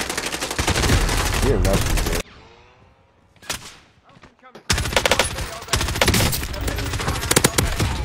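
Rapid, loud bursts of automatic gunfire from a first-person shooter video game, cutting out briefly for a quieter stretch before resuming in dense volleys, with a voice talking over it.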